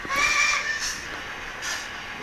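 A Viessmann powered low-side model railway wagon plays a steam whistle effect: a high, tonal toot over a background hiss, close and fairly loud, lasting about half a second.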